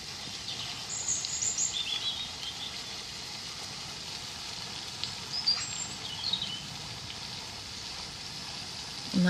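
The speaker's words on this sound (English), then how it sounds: "And that birdsong is just beautiful." Birds sing in the English countryside at a historic building in Surrey, a few thin chirps and short calls scattered over a quiet outdoor ambience, faint and fairly distant, with no talking.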